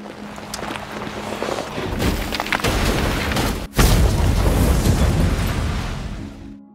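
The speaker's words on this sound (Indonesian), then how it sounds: "Lalu mobil itu pun dibuang ke jurang hingga mobil itu meledak dan membakar si penjaga hutan." A loud, roaring blast erupts into sustained crackling and rumbling as a car explodes and burns after falling into a ravine, heavy and close.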